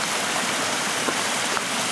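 A creek stream tumbling over a small waterfall in a steep gully, steady broadband rushing water close by, continuous and alone with no voices.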